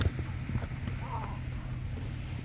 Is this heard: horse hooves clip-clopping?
yes